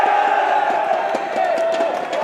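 An esports arena crowd cheers for Team Liquid at a CS:GO grand final, a loud, sustained roar of many voices with whoops rising and falling throughout.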